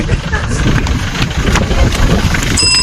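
Vehicle engine running on a mountain road near Munnar, a loud close rumbling idle-like drone with rough low-end texture throughout, with faint voices mixed in.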